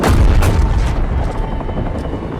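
An AQ helicopter shot down and exploding in Call of Duty Warzone: a loud, close, rumbling blast hits at once, then decays slowly into a long roar.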